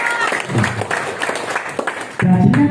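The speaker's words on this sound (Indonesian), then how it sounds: "Tepuk tangan dulu Bapak Ibu." An audience claps together during a seminar, a dense patter of applause running the whole moment, swelling louder near the end, with voices mixed in.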